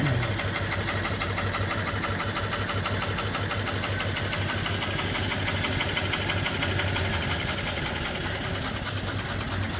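Antique steam engine driving an overhead line shaft, running steadily with a continuous rhythmic mechanical chugging and clatter throughout, close and fairly loud, with no talking.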